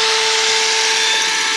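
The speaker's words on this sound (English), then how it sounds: "get yourself a small hammer drill, battery powered, and you're gonna literally drill into areas that have high mineralization in them" A small battery-powered hammer drill bores into mineralized rock with a loud, steady high-pitched whine, close and alone.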